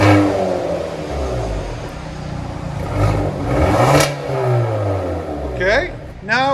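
A 2020 Hyundai Veloster N with dual exhaust and resonator delete revs repeatedly, the engine note sweeping up and down in loud surges close by, with people talking over it.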